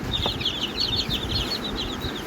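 A dense crowd of about seventy-five newly hatched chicks chirps continuously, high-pitched peeps overlapping in a busy, steady chorus close by.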